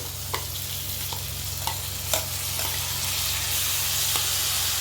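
Chopped ingredients frying in a pan for bheeyapu nooka semolina upma, a steady close sizzle with a few light stirring knocks and scrapes, no talk.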